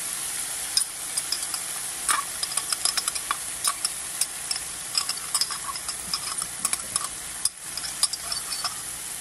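Garlic sizzling in a hot pan with lamb chops, a loud steady frying hiss near at hand with crisp pops and scraping stirs throughout, and no talk.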